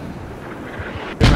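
A mortar salvo fires in a war video game set in a British bombardment assault, a sudden loud booming blast arriving after a stretch of low ambient rumble.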